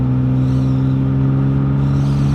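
A BMW E36 engine idles along at roughly 2,000 RPM with a steady, droning hum and strong low tones, held loud and even throughout with no voices.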